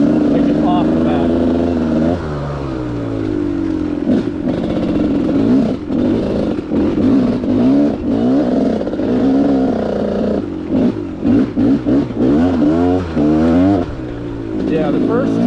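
A Gas Gas 300 motorcycle engine revs and rises and falls in pitch while being ridden, loud and close, with someone talking over it throughout.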